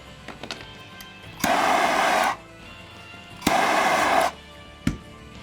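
A handheld heat gun blows in two roughly one-second bursts of loud, broad hissing airflow while a vinyl rifle skin is heated, with light handling clicks and taps in between.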